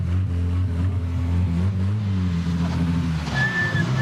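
A Peugeot 106 rally car at the Rally Ciudad de Langreo holds a steady, droning engine note that wavers as it shifts load, fairly close. A brief whistle-like squeal comes near the end, and no one speaks.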